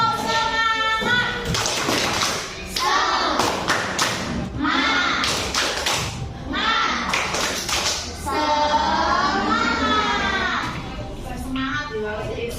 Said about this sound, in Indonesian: coba anak-anak tepuk semangat